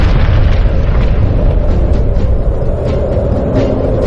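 A loud, sustained roaring blast in a depiction of the Japan Airlines Flight 123 disaster, as the tail and pressure bulkhead tear away at altitude, forms a dense rumbling wall of noise throughout with no speech.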